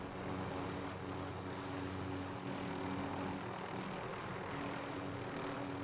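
A propeller aircraft's engine drones steadily and loudly as it takes off in a video game, a continuous dense roar with no break and no voices.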